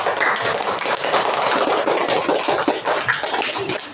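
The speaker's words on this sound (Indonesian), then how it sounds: "Kita kasih tepuk tangan dulu" A classroom of children applauds together, a dense, steady patter of many hands clapping at once, loud and sustained for several seconds with no talk over it.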